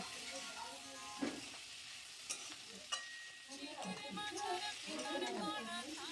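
Cumin and coriander powder stirred into a spice masala in a pan, with a steady frying sizzle and occasional spoon scrapes and knocks against the pan, while a voice talks over part of it.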